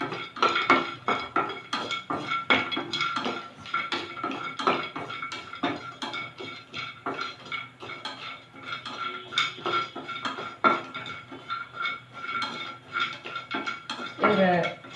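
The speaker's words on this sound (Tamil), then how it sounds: "இந்த சுக்கு இதையும் இப்படி போட்டுக்கலாம். போட்டு இது 3ஐயும் வறுத்துக்கலாம்." Dry ginger and spices are dry-roasted in a pan for a Diwali medicine preparation, with a utensil scraping and clinking against the metal in an irregular, busy rhythm and occasional brief talk.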